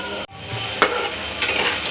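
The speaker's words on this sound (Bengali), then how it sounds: "একবারে লো ফ্লেমে রেখেছি যাতে ভেতর থেকে বড়াগুলো ভালোভাবে ভাজা হয়ে যায়" Fritters frying gently in oil, a soft continuous crackle with a brief gap and a couple of light utensil clinks.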